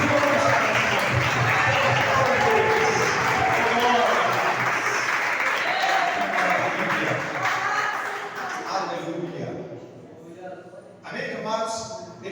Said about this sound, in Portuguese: Toda certeza com as suas mãos, vamos aplaudir o Senhor Jesus